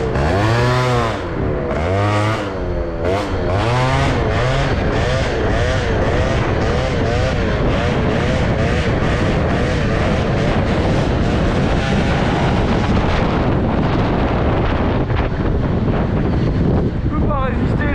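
A Gilardoni Booster 50 scooter with a BOOST cylinder head revs hard during a wheelie, the two-stroke engine whining up and down in sharp surges at first, then holding a loud, sustained buzz amid wind buffeting.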